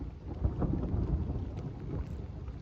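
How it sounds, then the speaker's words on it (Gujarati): Thunder rumbling continuously over the Kedar valley during a storm, a deep, heavy roll with rain-like hiss mixed in, fairly close and steady throughout. "કડાકા આગળ તમને સંભળાશે."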